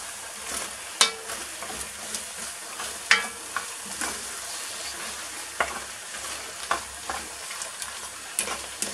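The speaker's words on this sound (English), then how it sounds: "Give that a good mix. It's starting to cling on the bottom of the pan." Beef stroganoff mixture frying and being stirred in a pan before the stock goes in, a steady close sizzle broken by sharp scraping and clinking spoon strokes every second or so.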